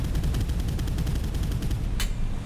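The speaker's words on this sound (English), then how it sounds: "the gunfire can be pretty brutal and your guys go flying everywhere" Rapid, loud bursts of machine-gun fire from a PT boat battle against the Imperial Japanese Navy in the video game Boat Crew, a dense continuous rattle with one sharper crack near the end.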